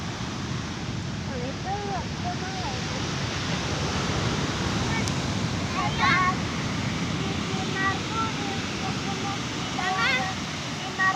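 Surf rushes and roars steadily along Lampuuk Beach in Aceh, Indonesia, with wind noise on the microphone, while a few faint birds chirp in the distance.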